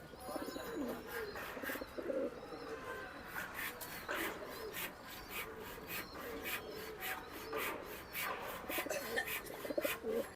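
Giribaj high-flyer pigeons coo in a steady, busy loft, with continuous rubbing and shuffling, scattered chirps and faint voices in the background.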